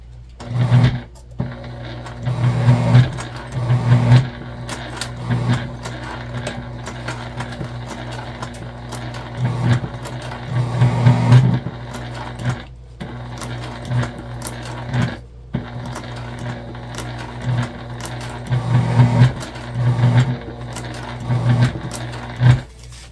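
Sewing machine running a top stitch on a small fabric pack, stitching in repeated bursts of rapid mechanical whirring separated by brief pauses, close and alone.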